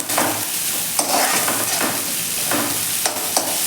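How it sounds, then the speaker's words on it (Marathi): Carrots and French beans being stirred in a pan for a Manchow soup, a spoon scraping and tossing the vegetables in repeated strokes over a steady, moderately loud sizzle, with no talking. "हे दोन्ही साहित्य व्यवस्थित आपण मिक्स करूया"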